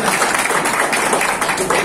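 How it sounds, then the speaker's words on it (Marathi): Audience applause at a Jain community gathering honouring a senior citizens' association president, a dense steady patter of many hands clapping close by. "टाळ्या वाजवा"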